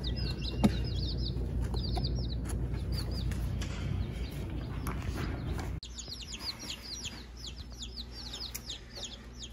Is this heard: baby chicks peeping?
yes